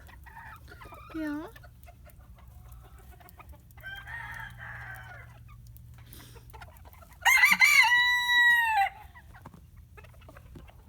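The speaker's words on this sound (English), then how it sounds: "Here's the roosters" Roosters, including a White Crested Polish standard and bantams, cluck in short bursts before one crows loudly and clearly up close, outdoors in melting snow, with a brief spoken word nearby.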